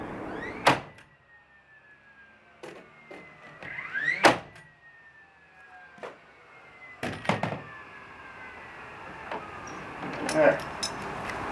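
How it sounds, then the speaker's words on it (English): A shed door is opened with a series of loud thunks and knocks spread unevenly over several seconds, with creaks and scraping between them and a brief spoken word. "that's my door opening."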